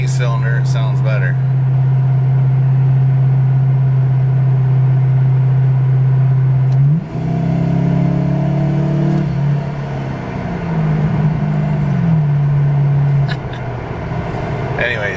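Chevrolet Caprice hot rod engine in 8-cylinder mode, holding a steady low drone and then revving up and down midway before settling again, loud and close, with brief sounds of movement at the start and end.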